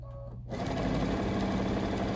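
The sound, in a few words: sewing machine sewing fabric bracelet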